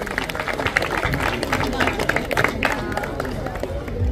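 Crowd clapping at the Copenhagen Mela, an outdoor festival in Valby Park, with scattered claps and cheering over babble and speech, fairly close and steady throughout.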